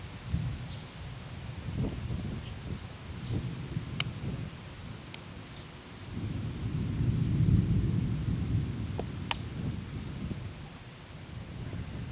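Deep thunder rumbles and rolls in slow waves, swelling and fading, with a few sharp crackles and rain and wind hissing steadily underneath.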